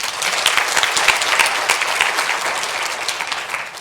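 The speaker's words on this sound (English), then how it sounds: "another round of applause" Sustained applause from a conference audience, a dense even wash of many hands clapping steadily for about four seconds with no one speaking over it.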